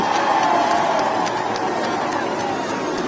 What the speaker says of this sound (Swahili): Makofi tena wananchi